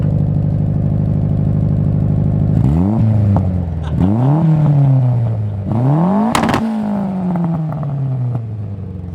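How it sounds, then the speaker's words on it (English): A turbocharged Mazda Miata engine idles steadily, then revs sharply several times, each rise in pitch falling back with a throaty exhaust rumble, loud and close. "let's hear the exhaust. Give me just a rev or two"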